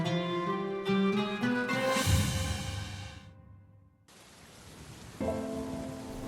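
Heavy rain in a Bengali horror audio drama: after a few tonal notes, a dense, loud hiss of downpour sweeps in, eases off, then returns strongly and stays steady.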